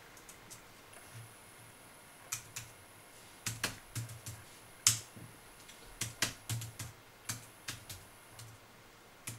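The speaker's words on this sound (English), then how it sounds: "it's just like typing on a laptop keyboard" Quiet, close-up clicks of fingers typing on a compact Freedom Pro keyboard, in irregular bursts of sharp taps with short pauses between them, no voices.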